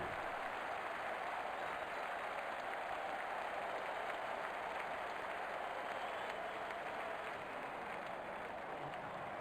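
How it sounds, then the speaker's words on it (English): Cricket video game crowd applauding and roaring continuously, a dense steady wash of clapping and cheering at even loudness throughout. "Crowd is going crazy."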